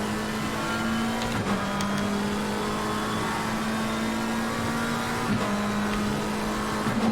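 A race car engine drones steadily at high revs through Suzuka's corners in Assetto Corsa Competizione, its pitch dipping briefly on downshifts before climbing again, with no voices over it.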